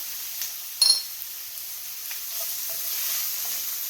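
Chopped onions seasoned with parsley, salt and pepper sizzle steadily in a hot pan, a constant soft hiss throughout with a brief metallic clink of a utensil near the start; no talking.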